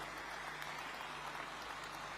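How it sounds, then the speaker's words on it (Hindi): A large audience at a police constable appointment ceremony claps for newly appointed women constables, a dense, even roar of applause that holds steady without pause. "एक बार बच्चियों के लिए जोर से ताली बजाइए जरा"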